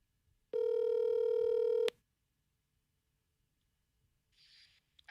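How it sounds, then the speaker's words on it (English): A cell phone held up to a studio microphone during a live morning radio broadcast gives a single steady dialing tone lasting over a second, loud and alone, followed by silence and a faint brief sound at the end. "I'm holding my cell phone up to the microphone."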